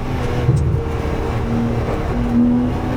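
A GT3 race car drones steadily on track, its engine note holding a sustained tone that rises slightly toward the end, loud and close with no speech.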